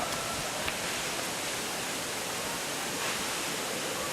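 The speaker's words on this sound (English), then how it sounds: "Really, really cool waterfall." A waterfall in Indonesia roars as a steady, dense wash of falling water, unbroken and even throughout, heard from a moderate distance with no other sounds standing out.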